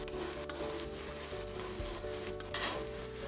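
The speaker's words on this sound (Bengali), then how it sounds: "এই যে পেঁয়াজটা অনেকটা ভাজা হয়ে গেছে, পেঁয়াজটা ভাজা ভাজা হয়ে এসছে অনেকটা।" Onions fry and sizzle steadily in a pan for a homemade rohu fish dish, a dense continuous crackle close by with a few stirring scrapes and no talk.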